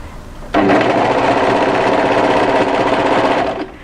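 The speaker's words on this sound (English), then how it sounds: "we're going to present this to our overlocker and start overlocking" An overlocker runs steadily while stitching the side seams of a knit winter sweater, a close, loud, continuous mechanical whirr that starts abruptly and holds for about three seconds before stopping.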